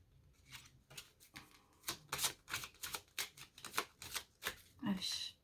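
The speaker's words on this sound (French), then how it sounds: "je vais remélanger au dos de deck" A deck of tarot cards being reshuffled, with a run of quick riffling and slapping card sounds in irregular bursts, fairly close and quiet.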